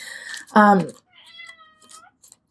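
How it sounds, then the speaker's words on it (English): A cat gives a loud, clear meow close by, followed by softer, drawn-out meowing sounds in a quiet room. "Can you hear my kitty?"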